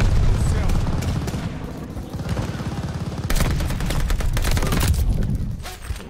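A grenade blast and rapid gunfire from the online shooter Call of Duty: Vanguard, in its Bloodshed mode: dense, loud bursts of shots and booms roll throughout, with a sharper, heavier crash in the middle.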